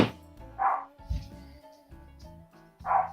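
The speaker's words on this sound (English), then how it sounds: "Are you hearing barking, can you?" Dog barking outside, heard as a few muffled, spaced barks over a steady tonal background hum.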